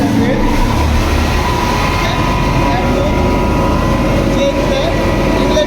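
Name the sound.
Pelton wheel turbine running after switching on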